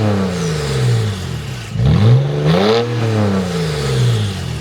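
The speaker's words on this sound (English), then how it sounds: "let me give you boys some revs" A BMW E92 335i engine revs up hard several times, rising and falling in pitch with a rough, throaty roar, close and loud.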